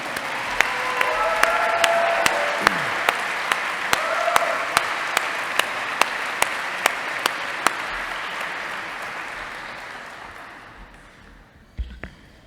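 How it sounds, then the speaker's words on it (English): Parade participants receive a big round of applause from diners at the Greenway Dinner: dense, sustained clapping from a large crowd that swells, holds, then gradually fades out near the end. "Let's give all of the parade participants another big round of applause."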